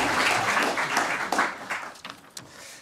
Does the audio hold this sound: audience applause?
yes